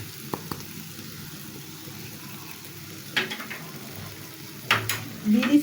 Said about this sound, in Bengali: 1/2 চামচ মরিচের ফাঁকি দিয়ে একটু হালকা ভেজে নিচ্ছি